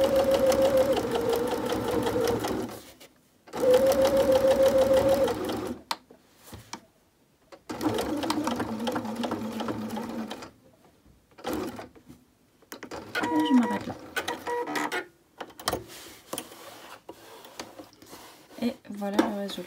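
Domestic sewing machine topstitching a fabric AFNOR face mask 2 mm from the edge, several whirring bursts of rapid stitching separated by pauses, close and fairly loud, with quieter handling sounds between runs.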